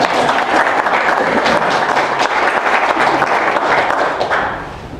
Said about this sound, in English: The co-chairs, please stand and receive raucous applause.